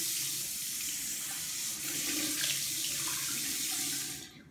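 Tap water runs steadily into a bathroom sink in a hotel room for rinsing, a close, continuous splashing hiss that cuts off near the end.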